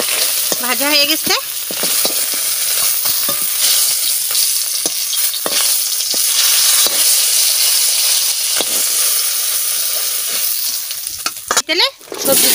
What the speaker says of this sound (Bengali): তেলে সবজি দিয়ে দিচ্ছি, সবজিটা ভালো করে কষাই নেব।